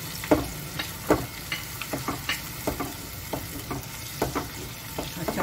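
Ground pepper paste is stirred in a frying pan, giving a steady sizzle with repeated scraping clicks of the utensil against the pan, close up and without talk.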